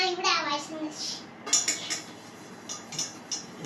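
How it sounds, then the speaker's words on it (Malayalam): Pots, pans and cutlery clattering and clinking while dishes are washed in a home kitchen sink, a run of bright knocks and scrapes at close range with no talk. "പാത്രം കഴുകുന്നു."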